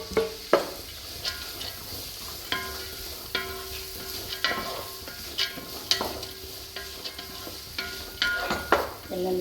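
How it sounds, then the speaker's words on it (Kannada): Capsicum and carrot fry in a pan for paneer pulao with a soft continuous sizzle, while a spatula scrapes and stirs at regular intervals close by. "ಎಲ್ಲ ಇಟ್ಟು ಫ್ರೈ ಆಗುತ್ತೆ."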